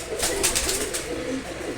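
A pair of domestic pigeons coo close by, several soft, rolling low coos in quick succession, with light chirps and rustling around them.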